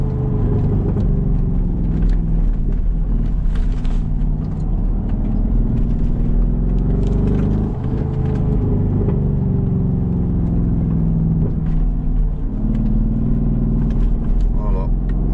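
An 850 hp Brabus driving across sand and small dunes, its engine a deep, continuous rumble with slight surges in revs, heard from inside under ongoing conversation.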